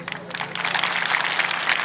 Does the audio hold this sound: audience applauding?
yes